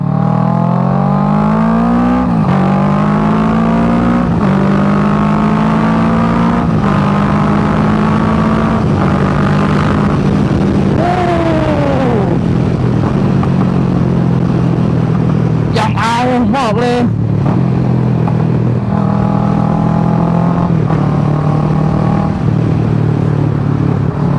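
Kawasaki Ninja 650 KRT parallel-twin motorcycle engine, close by and loud, idling steadily, then revving up in several rising blips before settling back to idle.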